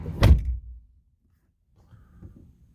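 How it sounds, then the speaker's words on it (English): One heavy, solid thunk of a 2017 Dodge Ram 1500 pickup truck door slamming shut, loud and close, followed by silence and some faint rustling. "Let me slam the door."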